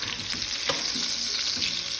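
Fish frying crisp in a pan at home, a dense, even sizzle with soft bubbling and occasional light stirring knocks, close and steady with no talking.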